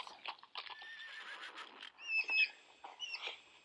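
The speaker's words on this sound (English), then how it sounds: "Horse." A horse neighs and whinnies, a high, wavering call that rises and falls, followed by a couple of shorter snorting calls, close and fairly loud with no talking.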